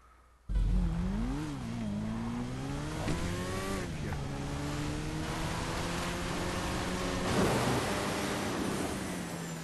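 A motorcycle engine in a GTA V race screams continuously at high revs, its pitch swooping up and down through gear changes and throttle shifts, loud and sustained over a rushing noise bed.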